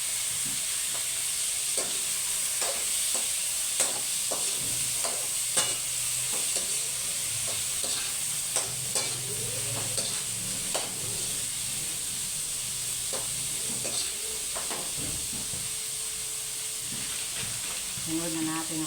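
Shrimp seasoned with Knorr sizzle in a pan as they are stir-fried, a steady hiss broken by frequent clicks and scrapes of stirring, with occasional speech in the background.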